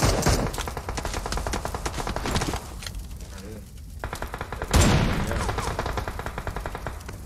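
Rapid automatic gunfire from the mobile battle-royale game PUBG Mobile rattles in fast, loud, evenly spaced bursts, with a heavier blast near the end before the shooting resumes.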